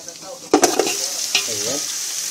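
Beef ribs drop into a hot soup pot and sizzle sharply, with a couple of loud clattering bursts early on before the frying hiss settles into a steady sizzle.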